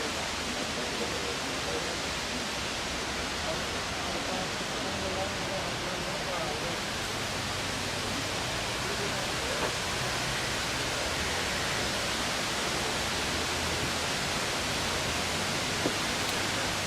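A river flows right beside a campsite, a steady broadband rush of water that runs unchanged at a moderate level for the whole stretch.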